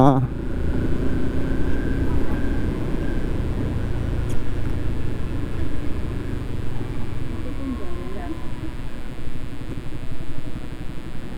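A motorcycle rides along a road at a steady pace. The engine drones continuously under wind and traffic noise, without clear revving.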